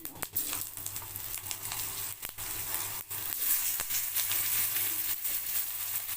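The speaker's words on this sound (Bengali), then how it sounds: "এবারে আমি পাঁচ ফোড়নের মধ্যে দেবো কেটে রাখা আলুর গুলো" Cut potatoes sizzle hard in hot oil with panch phoron spices, a dense close crackle that keeps running, broken by brief clacks and scrapes of stirring, with no voices.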